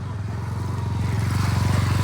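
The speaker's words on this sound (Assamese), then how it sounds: "আৰু এইখানে এখন বাইক গৈ আছে চাওক" Motorcycle on a dusty village road, its engine putting steadily and growing a little louder as it nears, a rhythmic low chug at moderate distance with no voices over it.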